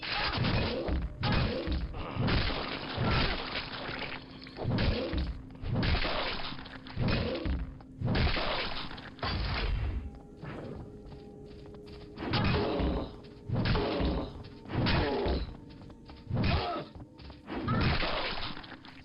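Repeated wrench melee strikes in Quake, a brisk series of sharp thwacking and crunching impacts in irregular bursts, loud and close, with short gaps between volleys.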